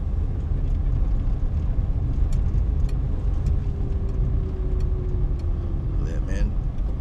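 A car rolls slowly through the parking lot of a run-down 1961 medical plaza in Santa Ana, California, giving a steady low engine rumble with some wind noise. Brief voices come in near the end.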